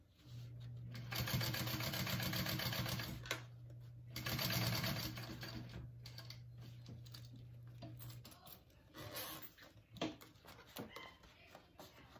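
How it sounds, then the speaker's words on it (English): A sewing machine runs in two long bursts and then shorter spurts as it top stitches the bottom of a crossbody wallet, steady and close, with pauses between the runs. "I'm just top stitching the bottom."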